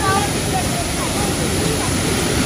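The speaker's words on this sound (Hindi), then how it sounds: "गाइस जोर से बोलना पड़ रहा है क्योंकि इतना शोर है पानी का ही।" A steady, dense roar of a waterfall's rushing water fills the whole clip, loud and close, with voices faintly buried beneath it.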